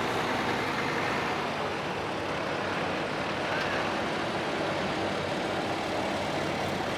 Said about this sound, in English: that's an Allis-Chalmers 190 XT tractor with a year-round aftermarket cab on